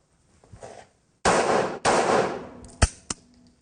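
A handgun fires without a laser sight, giving a few sharp, loud reports with short gaps between them. Quieter handling noises come before the shots.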